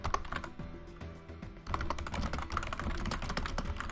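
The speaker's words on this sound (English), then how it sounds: "which means you can hear more bloops and more typing" Rapid typing on a computer keyboard close to the microphone, with bursts of clicky keystrokes, a short pause, then a denser continuous run of keys.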